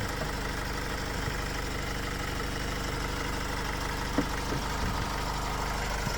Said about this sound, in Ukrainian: як запускається двигун автомобіля